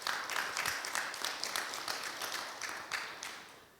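Members of a Buddhist temple audience at a Sunday dharma talk clap together, a short run of distinct, fairly fast handclaps at moderate loudness.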